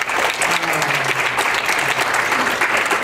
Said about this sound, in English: I think we need to applaud him